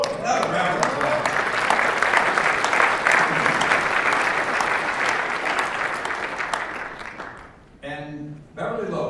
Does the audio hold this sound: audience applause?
yes